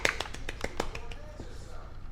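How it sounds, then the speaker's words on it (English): A couple of people clapping on a street in an animated adventure game, about half a dozen crisp separate claps in uneven rhythm, fairly close and fading out at the end. "On the side of the street, you hear a couple of people clapping."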